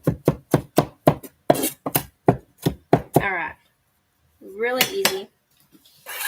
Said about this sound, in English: real quick, gonna mince this up a little bit.